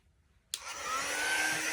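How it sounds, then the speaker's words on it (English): A quick dry heat tool used to dry stamping ink switches on abruptly after a moment of near silence, then blows a steady, loud whooshing hiss with a faint whine that holds to the end. "we're going to go ahead and dry this up with our quick dry tool"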